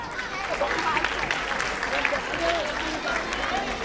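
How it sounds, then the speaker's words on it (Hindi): An audience claps at a children's values camp gathering in Indore during a lucky-draw announcement. The applause is a steady, dense patter at moderate level, with voices talking over it. "हाँ सभी लोग तालियां बजाएं।"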